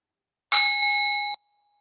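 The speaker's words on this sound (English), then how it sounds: "I have a bell that I'll ring to take us into a period of rest and digest." A single bell strike rings out clearly for a yoga rest, a bright sustained tone that cuts off abruptly after under a second, alone in silence.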